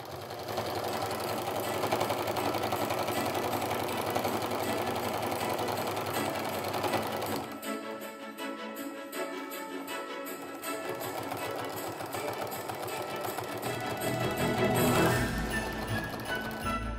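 A sewing machine stitches a seam through the layers of a quilt-as-you-go jelly roll Christmas stocking, a loud, steady rapid whirring that runs almost unbroken, with a brief lighter stretch midway.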